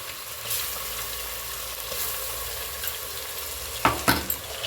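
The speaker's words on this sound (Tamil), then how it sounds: "இஞ்சி பூண்டு பேஸ்ட் வந்துட்டு ஒரு 4 ஸ்பூன் போட்டுக்கலாம்." Ginger garlic paste sizzles steadily in a hot pan as it is fried, with a few sharp scrapes and clinks of a spoon stirring against the metal near the end.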